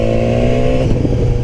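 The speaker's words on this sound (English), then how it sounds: "when you shift on this thing without using the clutch, the exhaust like pops" A 2016 BMW S1000R engine drones with strong harmonic tone, then shifts without the clutch and its exhaust gives a short burst of crackling pops, close and loud with no talk.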